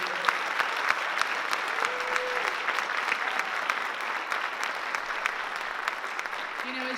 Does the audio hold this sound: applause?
yes